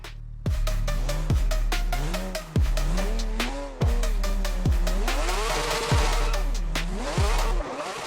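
In World of Drift, a car engine revs up and down in repeated surges as the car drifts, with rising and falling pitch and gear-shift drops, loud and close, and tire hiss toward the end.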